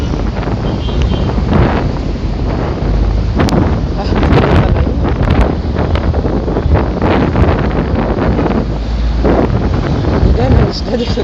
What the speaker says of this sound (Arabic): لان الدنيا هوا النهارده، في الوقت ده هوا